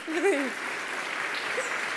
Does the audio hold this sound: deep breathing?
no